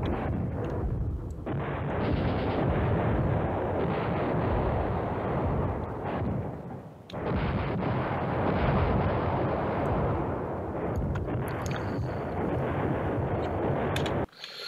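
Bombing and artillery strikes in the Command Ops 2 war game form a thick, sustained barrage of rumbling blasts that briefly dips midway before resuming and cutting off abruptly at the end, with no talk.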